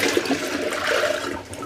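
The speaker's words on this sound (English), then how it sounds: "Okay, let's empty the dirty water tank." Dirty water pours out of the tank of a Narwal Freo X Ultra robot vacuum and mop, a loud brief gushing splash like a draining flush, close by with no talking.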